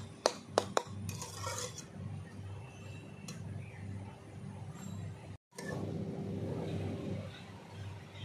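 Water spinach greens are stirred in a wok in a home kitchen, with a few sharp metallic clinks of the utensil at the start and then a low, steady scraping and sizzling.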